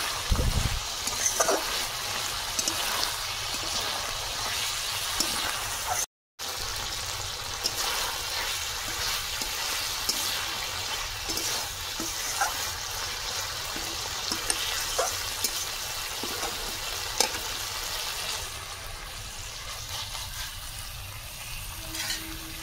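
Soft continuous sizzle and wet stirring of cooked shukto, a Bengali curry with bitter gourd and fish, finished with mustard oil, being poured into a serving dish, steady and close with a brief dropout.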